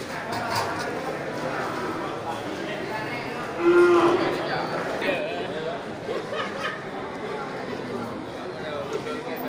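Large Simmental breeding cattle at a cattle market, with one clear moo near the middle rising over a busy background of crowd chatter and people talking nearby.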